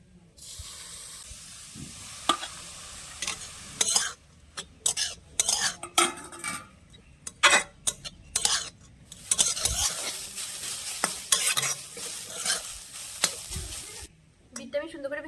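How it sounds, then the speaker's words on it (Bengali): Grated beetroot fries in hot ghee in a wok, with a spoon scraping and stirring in irregular bursts over a soft steady sizzle, clinks of metal on the pan rising and falling close by. "এবার আমি যে বিটটা গ্রেট করে রেখেছিলাম সেই বিটটা দিয়ে এবার ভেজে নেবো"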